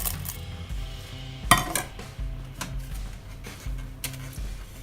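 Red chilies are dropped into a bowl while making Thai red curry paste, giving light, scattered clinks and clatters close by over soft rhythmic background music.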